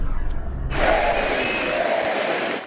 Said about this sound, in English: The crowd chanted his name, J.D. Vance